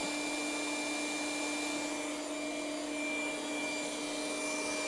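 A Trifo Lucy robot vacuum cleaner runs at maximum suction, giving a steady, fairly loud whirring hum with a bright high-pitched whine on top. The sound is constant throughout and no one speaks over it.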